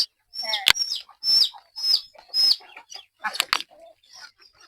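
Chickens and ducks on a village house roof give a string of clucks and squawks with sharp wing flaps, close and lively, in broken bursts.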